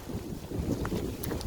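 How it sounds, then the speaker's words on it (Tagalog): Strong wind outdoors in the aftermath of a hurricane roars steadily and buffets the microphone in a continuous, close rumble, with no voices. "So windy, so very windy."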